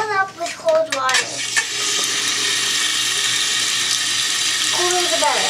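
Cold water from a tap runs steadily into a bathtub, a broad continuous rush that begins after some brief clattering sounds and holds alone to the end.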